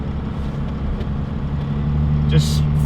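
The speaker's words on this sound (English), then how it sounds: "The engine just sounds so happy." A 12V Cummins diesel truck engine with a stage 2 cylinder head idles with a steady low rumble, and a voice speaks over it.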